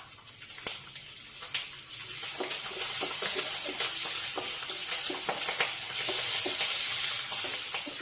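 Peeled garlic cloves, green chillies and curry leaves fry in hot oil for a potato and ridge gourd curry, first with a few sharp pops, then a steady loud sizzle with occasional crackles.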